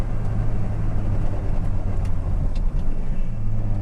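Volvo 240 fitted with a swapped-in T5 turbo engine accelerating, a steady loud engine drone with deep low rumble heard from inside the car, no talking.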